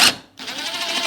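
A screw driven through plasterboard into oak grounds on a staircase build: a short burst, a brief pause, then a steady whirring drive that runs on evenly, close and fairly loud.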